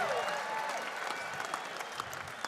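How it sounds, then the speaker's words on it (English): Big university graduation ceremony crowd breaking into sustained applause and cheering in a large hall, a dense roar of clapping that carries on without a break and eases off slightly toward the end. "Big cheer, let's take the roof off, Marvel."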